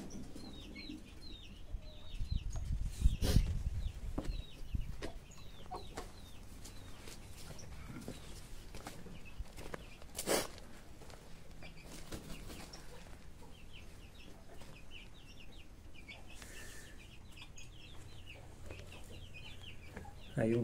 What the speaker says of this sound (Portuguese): Tem duas frangas Brahma aí, ó.